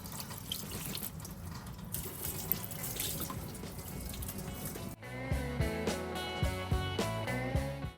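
Water running from a tap, splashing and trickling onto spilled coolant during thermostat work on a 2014-18 GMC Sierra or Chevrolet Silverado truck. It starts as a hissing flow, then shifts midway to a fuller, gurgling splash with clear drips.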